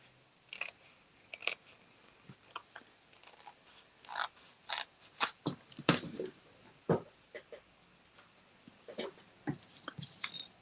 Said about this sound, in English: So I'm just cut down these edges.